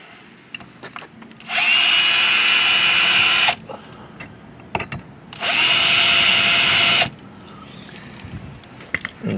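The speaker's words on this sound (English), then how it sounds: "so now we're gonna drill the front holes" A power drill bores holes into a 2023 Mercedes GLS SUV for a mounting plate, running in two long, loud, close-up bursts separated by quiet pauses with light handling clicks.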